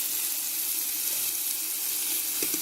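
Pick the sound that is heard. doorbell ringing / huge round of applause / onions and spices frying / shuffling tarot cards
onions and spices frying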